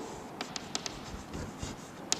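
Faint scratchy strokes of writing on a board during a chemistry kinetics lesson, a series of short irregular taps and scrapes over a quiet room hum.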